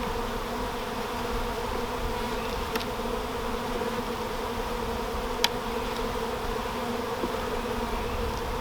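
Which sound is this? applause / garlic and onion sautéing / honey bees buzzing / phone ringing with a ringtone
honey bees buzzing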